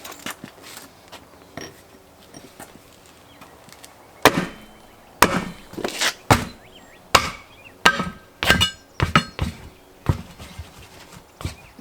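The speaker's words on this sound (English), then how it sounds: "Got our handy tire hammer here" A tire hammer strikes a steel rim to break the bead on a new Coker whitewall tire, mounted by hand: sharp, loud metallic whacks come in irregular bursts, sparse at first and then rapid, with no talking.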